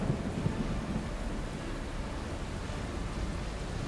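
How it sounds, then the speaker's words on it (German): Steady rain with a low, rumbling thunder bed, heard outdoors at Heidelberg Castle; a dense, even wash of downpour continues throughout with no voices. "Regen."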